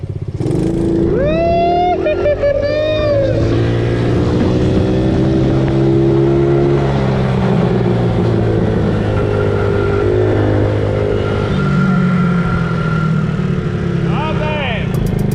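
A Vitasi 110cc Chinese quad ATV with a new spark plug runs steadily for the whole stretch, its small engine droning and shifting in pitch as it is ridden and turned, with people talking over it.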